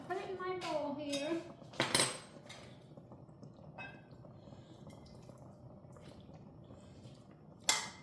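Gluten-free tagliatelle pasta goes into a bowl in a home kitchen, with a sharp clatter of utensil against dish near the start, a quiet stretch, then one more clink at the end; a brief voice is heard early on.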